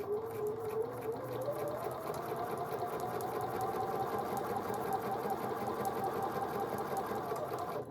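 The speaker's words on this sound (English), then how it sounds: "we're going to sew these blocks. And it'll just be a 1/4 inch stitch." A sewing machine hums steadily and continuously as quilt blocks are stitched with a quarter-inch seam, the motor running alone at moderate volume throughout.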